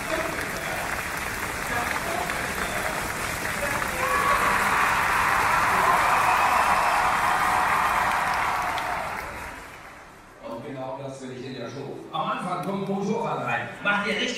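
A crowd claps and cheers at a stunt show in the Vulkan arena of Filmpark Babelsberg, Potsdam, with dense applause swelling for about ten seconds before it fades and someone speaks over a loudspeaker.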